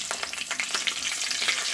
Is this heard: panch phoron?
yes